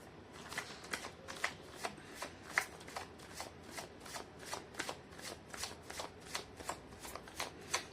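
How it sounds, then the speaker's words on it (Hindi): Tarot cards are shuffled by hand in a quick, regular rhythm of papery riffles and light slaps, close and moderately quiet, with no speech. "मैं कर लेती हूँ कार्ड की शफलिंग।"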